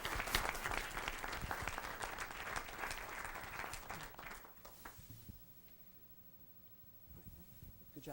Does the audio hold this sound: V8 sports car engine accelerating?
no